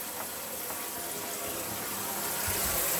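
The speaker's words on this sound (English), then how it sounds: "you'd wait till the water was coming out as it is now before you turn the taps off again" Water runs steadily from a tap in a 2003 Elddis Avante 524 caravan, a continuous close hiss and splash that swells slightly toward the end, with no one talking.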